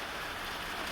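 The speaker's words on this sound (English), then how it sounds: "It's not just raining here on the bayou" Steady rain falls on a bayou in Baldwin County, a dense, even hiss of drops filling the whole moment with no voices and no break in the wash of sound.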